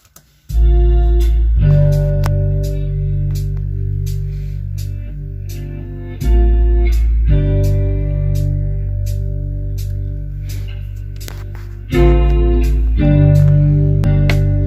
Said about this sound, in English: Alright, we're gonna add some low end, just simple.